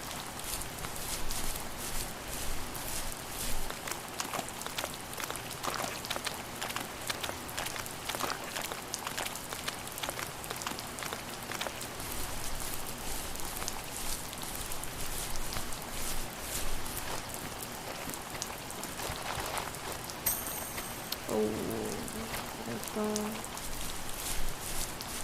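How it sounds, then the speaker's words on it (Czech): Steady rainfall patters throughout a melancholy scene in the video game The First Tree, with dense drops at even loudness, occasional soft footstep-like taps and a brief tonal chime near the end, with no talking. "Už je tady jenom smutno a déšť."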